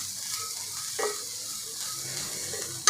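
Chopped capsicum being stir-fried briefly in a hot pan to keep a slight crunch, with a soft continuous sizzle, a few scraping stirs and a sharp utensil clink at the very end.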